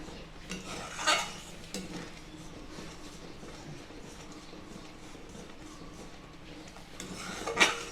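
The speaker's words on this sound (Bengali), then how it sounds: "এই যে ঘন ঘন আমি নাড়তেই আছি" A spoon stirs thick homemade tomato sauce in a pan at steady pace, with soft scraping and occasional metallic clinks against the pan, louder knocks near the start and end, heard fairly close with no talk.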